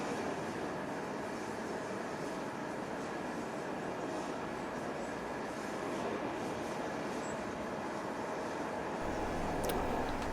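The steam locomotive Tangmere departs along the railway toward Euston Way, heard as a continuous broad rumble and roar from a distance. The level stays fairly even with a slight swell near the end, and no voices are heard.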